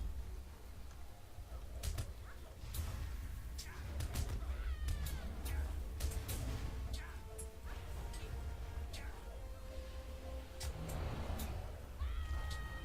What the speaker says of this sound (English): We also may find a Jangavar with a pair of battle cats